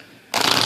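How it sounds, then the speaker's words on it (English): A deck of cards being shuffled for a reading, a sudden close burst of riffling that starts after a brief quiet moment and runs to the end. "So let me get to shuffling and cut this deck"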